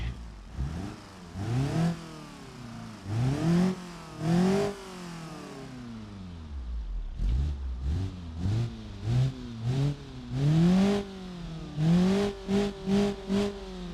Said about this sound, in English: most definitely sound like 4 cylinders when they don't have a muffler